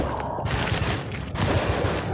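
Rapid bursts of gunfire in the video game Alone in the Dark, dense and loud, with several sharp shots rattling off in quick succession throughout.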